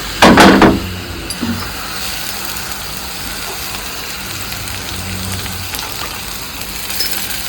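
Chopped garlic and split green chillies sizzle in a little oil as a tadka for palak paneer: a loud initial hiss settling into steady, close crackling and spitting, with no talking.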